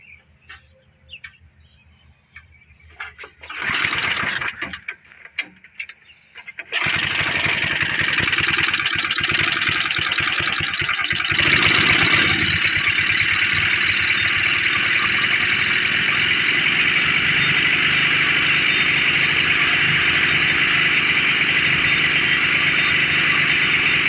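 A Briggs and Stratton engine with a pulse jet carburetor on an old Power Kraft tiller sputters through a couple of short bursts, then catches and runs at a steady loud drone, close by, with birdsong faintly behind.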